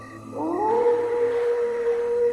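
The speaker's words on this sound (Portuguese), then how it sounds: "uivar é também uma maneira de marcar território" A dog howls in one long rising and then steady tone, loud and close against a constant background hum.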